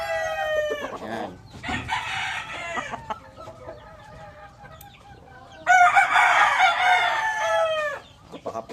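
A rooster crows twice in loud, drawn-out calls with a quieter stretch of clucking and faint noises between them, close by and alone.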